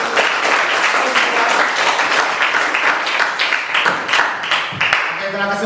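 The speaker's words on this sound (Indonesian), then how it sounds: "kita berikan aplaus dulu dari" Classroom applause for a student group after their presentation, loud close clapping from several people, steady throughout with slight swells.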